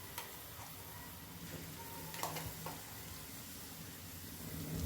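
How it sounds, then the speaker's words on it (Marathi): Masala fries in oil in a pan, giving off a low, steady sizzle with soft crackles and a few faint clicks. The cooking sound continues without speech. "तेल सुटेपर्यंत असा हा मसाला एकदम परतून घ्यायचा आहे."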